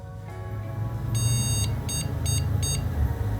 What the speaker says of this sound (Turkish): Yine o hata bip bip hatasını veriyor.